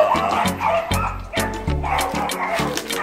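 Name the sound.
dog barking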